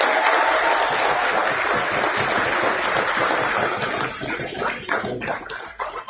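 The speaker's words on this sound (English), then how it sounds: "And you're on applause for Australia, please." A crowd applauds the Australia U18 Outbacks team at a football festival, with loud, dense clapping that fills the space. It holds steady for several seconds, then thins and tapers toward the end.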